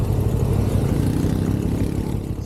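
A motorcycle engine runs steadily nearby, a low continuous rumble with a slight idle-like pulse that holds at an even level throughout.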